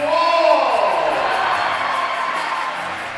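A high school basketball crowd cheers and whoops inside a gym, a loud swell of many voices that peaks early and then slowly fades.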